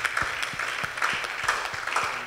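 A church congregation applauds to acclaim the Lord, a steady wash of many hands clapping together in a rhythmic, moderately loud burst that continues throughout.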